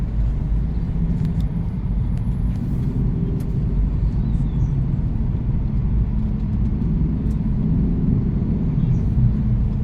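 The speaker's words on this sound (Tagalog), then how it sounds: "Ang traffic na ating naranasan sa lansangan" Heavy nighttime traffic on a highway in San Mateo, a dense, steady low rumble of many vehicles rolling past without pause, loud and close throughout.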